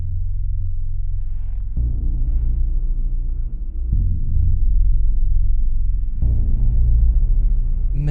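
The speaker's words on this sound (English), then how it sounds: "Menacing, dark underscore type of sound." A menacing, dark cinematic underscore from an Omnisphere sound pack plays as a deep, sustained synth drone. Its low chords shift heavily a few times, with no voices over it.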